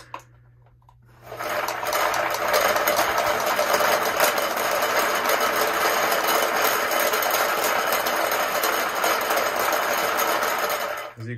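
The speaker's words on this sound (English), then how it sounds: "it changes the speed of the motor so I can get that perfect ball milled black powder" A speed-controlled ball mill motor for black powder, set to 40% speed, starts up and then runs with a steady, dense whirring hum and rattling tumble for several seconds, loud and close with no talking.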